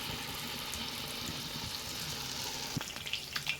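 Banana slices dipped in rice batter fry in hot coconut oil with a steady, close sizzle throughout, and a few faint clinks and bubbling pops toward the end; no one speaks.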